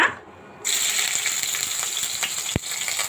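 Three dried chillies and onion paste drop into hot oil in a wok, setting off an abrupt, loud sizzle that carries on steadily, with a single clank of a utensil partway through.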